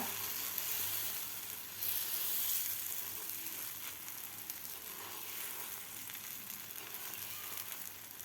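Aloo paratha batter sizzles steadily in a hot pan, a continuous close crackling hiss with a brief louder surge early on and no talking.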